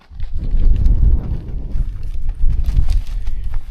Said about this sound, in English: It's quite breezy today